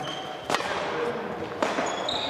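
A racket strikes during a badminton lesson: two sharp, close hits about a second apart over a quiet room background.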